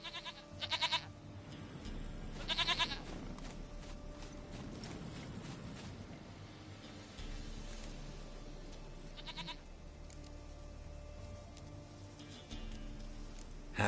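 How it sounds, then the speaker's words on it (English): A goat bleats in The Witcher 3 on PS4, in a few short, bright calls spaced apart over a steady low game backdrop of ambience and hoof-like clatter. "Goat of mine, dearest, sweetest goat."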